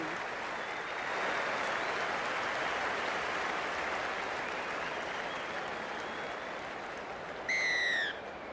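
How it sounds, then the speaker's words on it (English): Stadium crowd in the rugby league video game Rugby League 26 at Headingley, a steady broad roar swelling as the kickoff comes, with a brief high whistle-like chirp near the end. "the crowd goes up with a kickoff"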